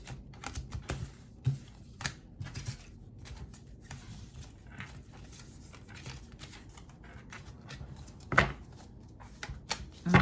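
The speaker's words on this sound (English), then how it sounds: "I'm going to shuffle them again." Tarot cards being shuffled by hand in a dense run of quick, crisp riffles and taps, close and continuous, with a few sharper knocks.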